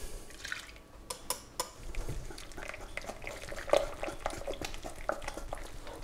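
Melted butter and oil trickling into crêpe batter of beaten eggs, soft dripping and liquid sounds with a few light clinks of a utensil, quiet and close.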